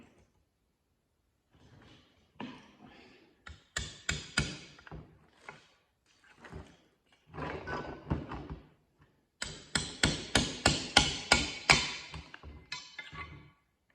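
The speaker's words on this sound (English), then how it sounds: "I'm going to try and knock this out from the back here because I don't want to start prying on it" Hammering out a DRZ400 water pump from the back: irregular metallic knocks come in bursts, sparse and light at first, then a fast, loud run of repeated blows near the end, close and alone.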